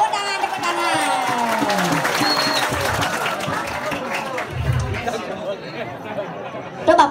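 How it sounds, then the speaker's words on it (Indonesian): Applause and crowd chatter at a Balinese comedy show, steady clapping mixed with talking and laughter throughout, with a couple of louder voiced bursts. "Woi, tepuk tangan."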